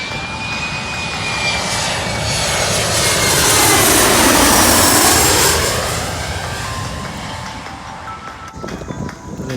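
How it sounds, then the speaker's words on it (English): Jet airliners pass overhead while coming in to land at Gravelly Point beside the river, a broad roar swelling as each plane nears, peaking close above, then fading away with a falling whine. "Made my way down to Gravelly Point, where you can watch the planes come in."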